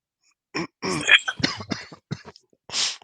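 A few short, close coughs and a throat clear come in quick bursts, mixed with brief bits of speech between them.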